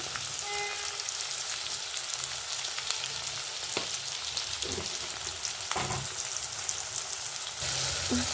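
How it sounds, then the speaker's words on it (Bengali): Onions frying with a little salt in a pan, a dense steady sizzle close up, broken by a few brief stirring knocks and scrapes. "সামান্য নুন দিয়ে দেবো তাহলে পেঁয়াজটা মজবে জলদি"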